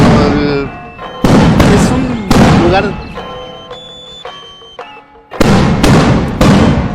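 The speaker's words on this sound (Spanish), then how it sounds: "Otra vez los cohetes." Festival rockets burst in Chiapas, several loud explosive blasts in quick succession with ringing tails and a brief lull between them, while people talk nearby.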